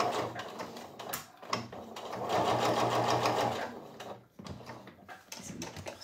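A sewing machine stitches a seam close to the fabric edge, a fast mechanical whir in uneven bursts with short pauses and handling clicks, close to the microphone.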